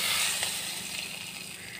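Hot tadka with fried red chilies and Kashmiri red chili powder sizzles loudly and steadily as it meets the daal, a close, continuous hiss.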